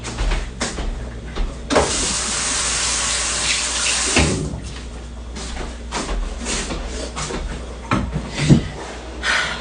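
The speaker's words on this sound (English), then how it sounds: "Let me go rinse my hands off because my eyes are burning." Running tap water pours into a sink as hands are rinsed beneath it, a steady close splashing stream with brief knocks and shifts in flow.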